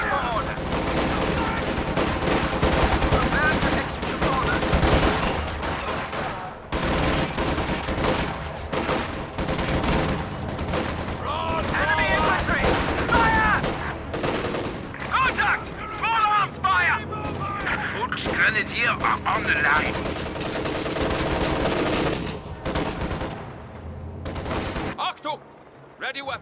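Sustained infantry gunfire in Company of Heroes 2, dense crackling bursts and volleys running almost continuously, with game voice callouts mixed over the battle noise.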